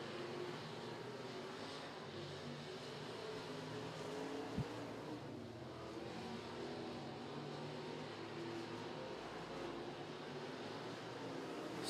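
Race cars circling Crossville Speedway during a feature race, a continuous distant engine drone with a steady roar and slight swells as the pack passes, no nearby voices.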